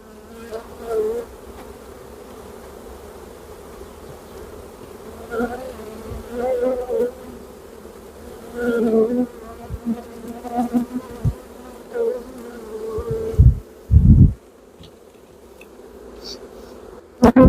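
A swarm of honey bees hums continuously close by, with individual buzzes rising and falling, plus a few sharp knocks and bumps against a box near the end.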